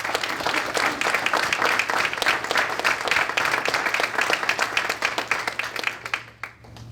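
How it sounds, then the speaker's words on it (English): Sustained applause from an audience, dense and steady clapping that fades out in the last second. "Let's have a round of applause for their invaluable contributions"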